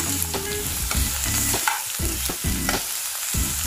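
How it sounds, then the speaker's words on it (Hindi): Masala pasta sautés in a pan on a medium flame, with steady sizzling broken by repeated rhythmic scraping stirs close by and no voices. "अभी ये मीडियम फ्लेम में फ्राई हो रहा है, थोड़ा सा सौते करना है इसको।"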